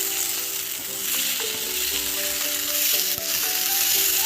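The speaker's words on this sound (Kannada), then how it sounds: "ಈಗ ನೀಟಾಗಿ ಫ್ರೈ ಮಾಡೋಣ, ಇನ್ನೊಂದ್ಸರಿ ಫ್ರೈ ಆಗೋಣ." Paneer masala mixture fries loudly in a pan after being uncovered, a continuous close sizzle with occasional stirring clicks and scrapes throughout.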